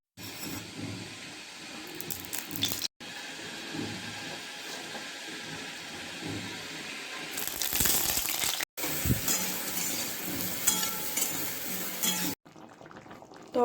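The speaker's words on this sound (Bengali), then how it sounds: "তরকারি টকবক করে ফুটছে।" A soupy vegetable curry with boiled cauliflower, carrot, potato and soaked soya chunks bubbling in a pot, a continuous close boiling and sizzling hiss that grows louder and harsher partway through, with a few short gaps.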